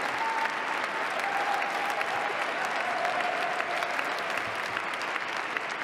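A large crowd at a presidential inauguration in Washington applauds continuously, a dense, even wash of clapping heard from a distance with no break.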